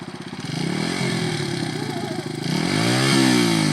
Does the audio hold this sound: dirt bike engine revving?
yes